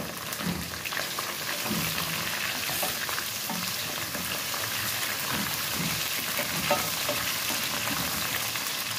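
Minced meat goes into a pan of frying onions for a dhaba-style bhindi qeema, with a steady, close, continuous sizzle and crackle and occasional stirring scrapes throughout.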